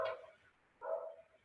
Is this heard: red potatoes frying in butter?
no